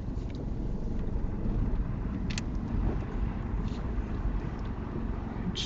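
Car interior during a driving lesson as the car rolls slowly forward off the brake, a low steady rumble with faint road noise and a couple of small clicks, no talking.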